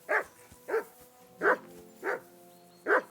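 Five loud, evenly spaced barks come from a dog called Mutt in Kingdom Come: Deliverance II. They are close and distinct, with short quiet gaps between them.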